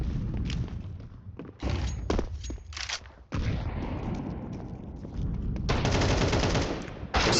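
Counter-Strike 2 tournament gunfire: loud bursts of rifle and automatic fire with heavy thuds, dense and continuous with brief gaps, and no talk over it.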